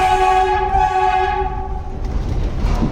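An NYC subway train horn holds a loud, steady tone for well over a second and then fades out, leaving the low rumble of the train on the tracks.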